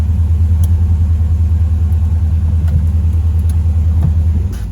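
A Chevrolet Monte Carlo's engine idles loud and close with a deep, steady rumbling throb, a few faint clicks over it, and the pitch dips slightly at the very end.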